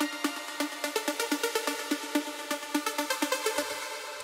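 A progressive house synth lead with an automated envelope plays a rapid, evenly pulsing sequence of bright plucked notes, loud and alone with no voice.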